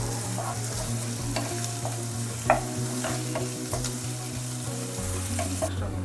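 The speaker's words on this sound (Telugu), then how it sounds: "అవి బాగా ఫ్రై చేసి కొంచెం మీడియంగా ఎక్కువ ఫ్రై లేకుండా ఒక లెవెల్ ఫ్రై చేసి" Vegetable manchurian balls fry in hot oil with a steady, close sizzle that runs the whole time, along with faint clinks of stirring.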